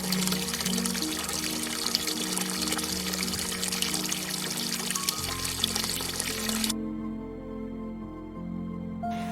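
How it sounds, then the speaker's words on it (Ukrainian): Crystal-clear spring water gushes and splashes steadily from the ground beside a salt lake, a continuous close pouring flow. Partway through it thins to a softer trickle. "Б'ють у з землі кришталеві джерела."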